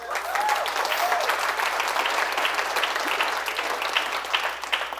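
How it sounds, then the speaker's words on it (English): An audience gives a big round of applause for Sherry at a goal-setting seminar, a full, sustained wash of clapping that stays loud and even throughout. "Give Sherry a big hand clap."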